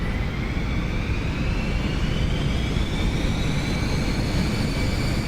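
An Eclipse 550 jet on its takeoff roll in the X-Plane 11 flight simulator, a loud steady engine roar with a rising whine as it speeds down the runway.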